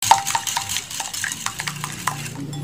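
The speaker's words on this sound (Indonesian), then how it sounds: "Lalu kita aduk ya," A spoon stirs sugar into pancake batter in a bowl, giving a run of light scraping and clinking taps against the side, close and uneven, with no voices.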